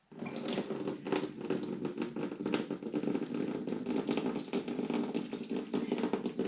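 Tap water runs steadily into a bucket during home fruit-wine making, a continuous, fairly loud gushing splash with a broad hiss that fills the whole stretch without pause and no voices.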